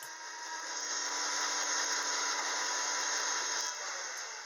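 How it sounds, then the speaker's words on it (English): A 17-inch bandsaw fitted with a 1-inch sawmill blade cuts through an American elm bowl blank, a steady, bright whirring hiss that holds even for several seconds at close range. "my 17-inch bandsaw is capable of taking a 1-inch blade, so I like to use this for some really quick cutting"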